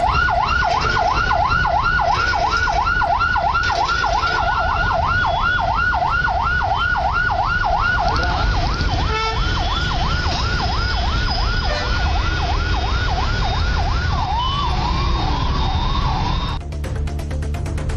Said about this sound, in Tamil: ஆம்புலன்ஸ் ஒன்றும் நெரிசலில் சிக்கியது.